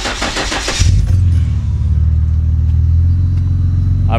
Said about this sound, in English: give the car a start. Let it run a little bit.